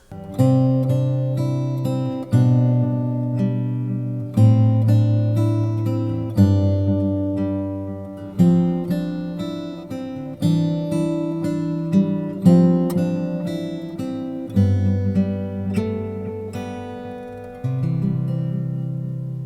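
A guitar plays strummed chords with single melodic notes picked on top, steady and close, in a repeating pattern of struck phrases; no voices.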